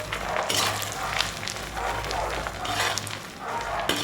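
Coconut bits sizzle in a pan of mixed sunflower and coconut oil, a steady close crackle with occasional stirring bursts and a low background hum.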